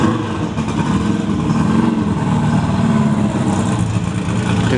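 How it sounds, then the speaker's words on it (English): Cars and motorcycles drive past at a rainy Volkswagen car show in Las Vegas, a steady loud engine rumble with mid-range motor drone, some revving and idling blended into one continuous wash, no talking. "You can hear some of them driving in the background."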